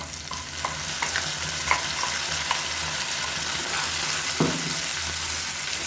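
Blended puree of two medium tomatoes poured into dried berries frying in a pan for Tamil vatha kuzhambu, giving a steady close sizzle with scattered stirring clinks and spoon taps throughout.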